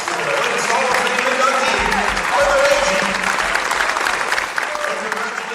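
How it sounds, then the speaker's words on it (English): Audience applause for a Hall of Fame inductee at a Mineral Area College and St. Francis County Rotary basketball event, steady loud clapping from a large crowd filling the whole stretch, with a voice over a loudspeaker underneath. "one more round of applause for the latest Hall of Fame"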